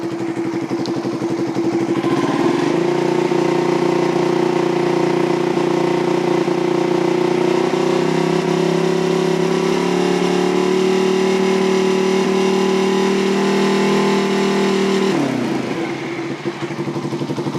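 A motorcycle engine revs loudly and steadily for about twelve seconds, holding a high pitch with slight rises, then cuts back toward idle.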